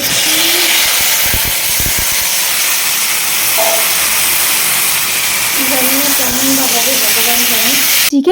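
Meat poured into a hot pan sets off a loud, steady hissing sizzle that fills the whole stretch, close by, with a voice speaking briefly over it partway through.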